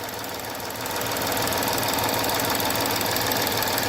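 Jaguar Land Rover 3.0L V6 AJ126 direct-injection engine running after repair, a steady close idle with rapid ticking and knocking clatter that settles into an even, continuous drone.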